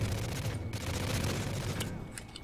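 Distant gunfire rattles under a busy battle backdrop in the Call of Duty: Modern Warfare 3 video game, a fairly faint stream of shots and mechanical clatter.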